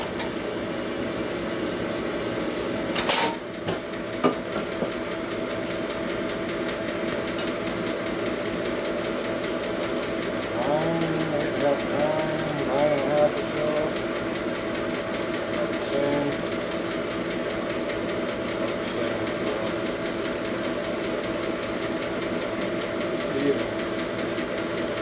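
A grinding stone works a valve seat on a 1992 Harley-Davidson 80ci Evo motor during a rebuild, giving a steady close whirring drone with a few short scraping swipes partway through.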